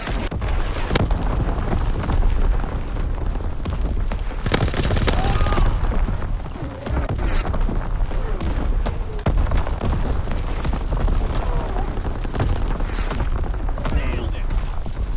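Artillery strike explosions from a Call of Duty WWII battle: dense, continuous booms and rapid gunfire, loud and sustained, with a sharp burst near the five-second mark and voices faintly mixed in.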